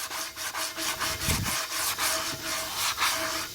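Sandpaper scrubs back and forth on a tire rim in quick rhythmic rasping strokes, close and fairly loud, with a short thud partway through.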